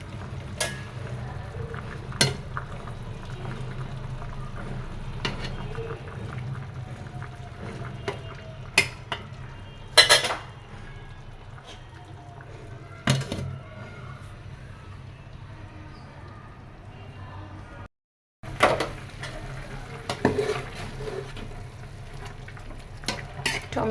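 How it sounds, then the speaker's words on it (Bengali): Bottle gourd simmering with tomato and shing fish in a pan over a low gas flame, giving a steady soft sizzle with occasional stirring knocks and clinks, and a brief silent gap near the end. "টমেটো শিং মাছ দিয়ে লাউ রান্না হচ্ছে।"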